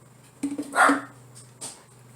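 A dog barks indoors in a home kitchen, a few short yips and one longer bark followed by a quick final yelp, moderately close against a steady low hum, with no talking.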